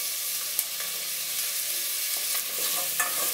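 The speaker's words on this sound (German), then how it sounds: "So, die tun wir jetzt 4-5 Minuten echt mal anbraten." Garlic sautéing in a pan, a steady bright sizzle throughout with occasional scrapes and taps of a utensil as it is stirred, close and alone without speech.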